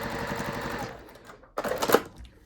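A sewing machine stitches strips of fabric scraps for a braided purse, with a fast, loud mechanical whir that slows and stops, then a second brief burst of stitching close by.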